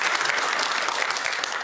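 A brief burst of loud, dense crowd applause at a live election broadcast, even clapping from many hands with no break.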